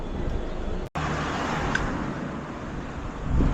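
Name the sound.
unregistered motor vehicle passing on the road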